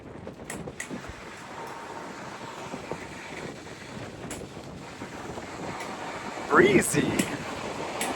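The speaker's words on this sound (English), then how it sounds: "It's just a little windy." Wind blowing at Bodega Bay on the California coast, a steady gusty rush buffeting the microphone throughout, with a brief voice near the end.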